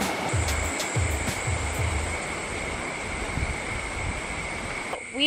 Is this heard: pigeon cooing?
no